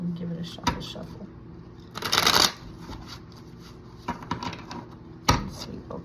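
Tarot cards are shuffled for a love reading, with soft riffling and several sharper bursts of card handling, close and moderately loud.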